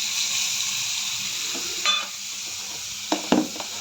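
Coriander paste sizzles and hisses steadily in a hot pan, with no voices. Soft scraping and clinks of stirring break through now and then.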